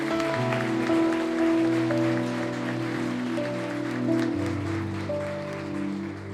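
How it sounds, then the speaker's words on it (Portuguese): Church congregation applauding steadily for about six seconds, a dense wash of clapping beneath sustained keyboard or organ chords. "Vamos aplaudir Jesus por essas vidas"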